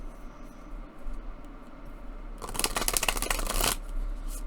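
Horror tarot cards being shuffled: a quiet room, then a close riffle shuffle of about a second and a half with crisp papery flutter, followed by softer card handling.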